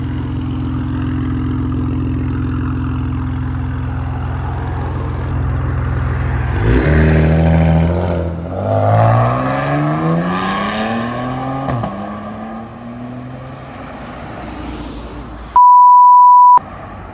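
A straight-piped Maserati Quattroporte Q4 with a 3.0-liter twin-turbo V6 idles in traffic, then revs up in rising sweeps and settles back. A sharp electronic beep tone cuts in near the end.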